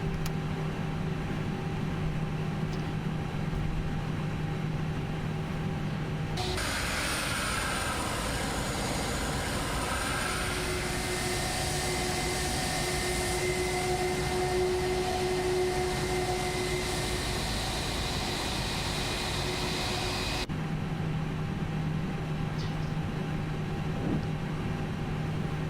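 The engines of an FSLabs Airbus A319 in a flight simulator go from a low idle hum to a loud, steady spool-up roar that holds for about fourteen seconds. The roar then drops back to the quieter idle drone, with no voices.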